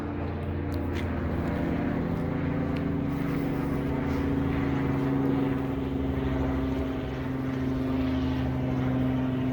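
Police helicopter flying overhead above a residential Hollywood Hills neighbourhood in Los Angeles, a steady droning rotor hum that stays loud and even throughout, with no talking.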